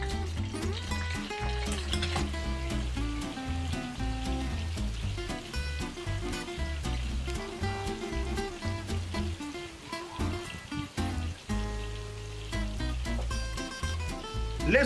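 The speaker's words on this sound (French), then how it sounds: "Donc je les mets dans de l'huile chaude." Aubergine pieces frying in hot oil for Indonesian terong balado, a steady dense crackle and sizzle running throughout at moderate level, without talk.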